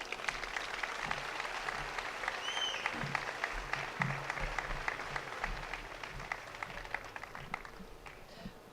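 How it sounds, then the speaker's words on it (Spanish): A crowd at a Podemos political rally in Granada applauds steadily. The quick overlapping claps sound fairly distant and hold an even intensity before thinning slightly at the end. "Fuerte aplauso."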